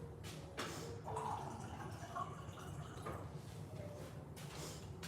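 Water runs into a glass in a home kitchen, a soft trickling fill with a few clunks and a sliding sound, fairly quiet and close, with no talk.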